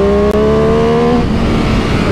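An MV Agusta F3 Rosso inline-triple motorcycle being ridden, its engine droning loud and steady at close range, with no voices heard.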